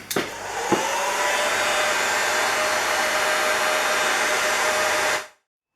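A heat gun blows steadily on heat shrink tubing over wiring for LED work lights on a Kubota BX tractor, a loud continuous broadband whoosh after a couple of clicks at the start, then cutting off abruptly near the end.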